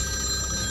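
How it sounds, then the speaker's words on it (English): A mobile phone rings inside a moving car during a driving lesson, a steady electronic ringtone that is loud and continuous for under a second, with engine noise below. "Do you want to answer your phone?"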